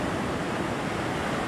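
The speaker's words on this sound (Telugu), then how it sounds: "మొత్తం అలలు ఇవన్నీ పెద్ద పెద్ద అలలు వస్తున్నాయి" Large ocean waves surge at Pakala beach in Andhra Pradesh, a steady, dense roar of surf that stays loud and even throughout, with no voices over it.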